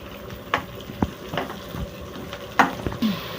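Onion pieces frying in hot oil with bitter gourd give a steady close sizzle, broken by several sharp scraping knocks from stirring, with no talk.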